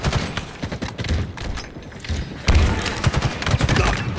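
A frag grenade goes off during a Halo Infinite multiplayer match, a heavy thump at mid-clip over a dense bed of gunfire and game effects, with a player's voice briefly heard.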